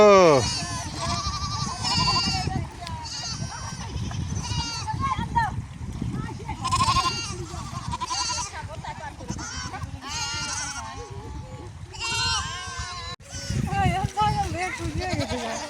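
Goats bleat repeatedly in a rural yard during rain, the cries close and loud and overlapping, while people talk nearly throughout.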